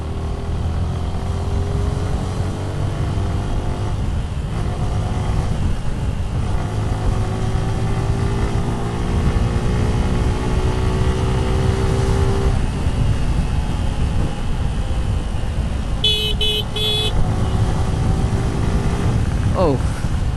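A Suzuki Gixxer Fi ABS motorcycle rides along a road toward a flyover, its engine drone steady and loud alongside heavy wind rush, with a rider's voice briefly heard over it.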